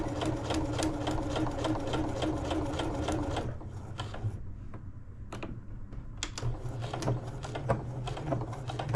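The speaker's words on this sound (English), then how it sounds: "I am going to sew along that line" A sewing machine runs a line of stitching through fabric in foundation paper piecing for a quilted star block. A steady rapid whirring runs at first, then it stops, leaving a few clicks and the shuffle of handling.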